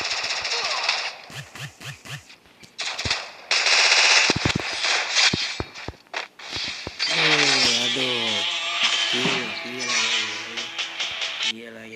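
Bursts of automatic gunfire from the video game Free Fire rattle in rapid strings, mixed with sharp single shots and in-game effects, loud and close, with other game sounds in between.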